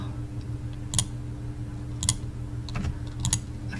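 Keys clack on a computer keyboard in short clustered bursts of a few strokes each, with pauses between, set over a low steady hum.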